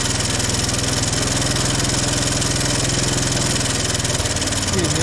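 An abandoned Honda Big Red ATC 200es three-wheeler engine runs roughly and struggles to idle, a loud, steady low chugging throb close by, uneven toward the end.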